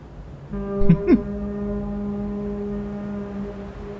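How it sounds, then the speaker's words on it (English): A deep, sustained foghorn blast sounds in the video game Little Nightmares, a steady tonal drone holding for several seconds after a brief louder swell, moderately loud and alone. "Distant Foghorn?"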